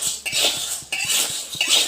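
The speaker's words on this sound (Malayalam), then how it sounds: "നമ്മൾ കഴുകി സൂക്ഷിച്ചിരുന്ന ഗോതമ്പ് ഉണങ്ങി ഇനി നമുക്കത് വറുത്തെടുക്കാം" Wheat grains scrape and rattle against a metal pan as they are dry-roasted in repeated sweeping strokes, a close, dry rasping swish with light clinks.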